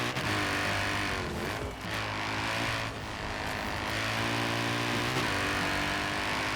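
Alfa Romeo 155 tuned to 1000 horsepower with all-wheel drive, driven fast in the racing game Forza Horizon 4, producing a steady loud engine drone with shifting tonal harmonics and brief dips as gears change, with no talking.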